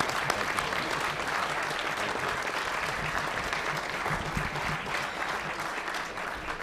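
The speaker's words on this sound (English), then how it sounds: "How about a round of applause for our speaker today?" Steady applause from a luncheon audience at the National Press Club for a speaker, a continuous dense patter of many hands heard from a moderate distance.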